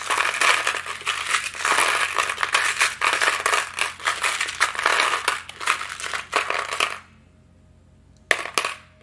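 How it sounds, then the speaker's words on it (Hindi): Tarot charms being shuffled: a dense, continuous rattle of small hard pieces clinking and crunching together for several seconds, stopping abruptly, then a brief final burst of clatter. "आपके चार्म्स है मेरे पास, तो पहले इन्हें शफल कर लेंगे"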